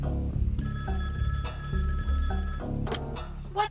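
A telephone rings in a children's Arthur story, its bell trilling in repeated bursts with short gaps, followed by a few brief, scattered noises at the end.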